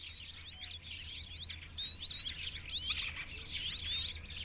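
Small birds, tits and rock sparrows in the limestone cave dwellings of the Matera Sassi, chirp and twitter in quick bright bursts, moderately distant, against a faint low background hum.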